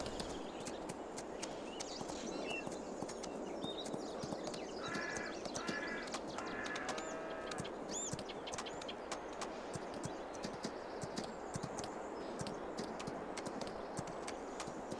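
Steady video game horse hoofbeats clip-clopping at a trot in Farming Simulator 22, continuous and fairly quiet, with occasional bird calls in the background.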